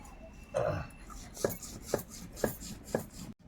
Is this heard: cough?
no